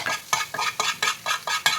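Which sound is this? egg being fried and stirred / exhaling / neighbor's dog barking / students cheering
egg being fried and stirred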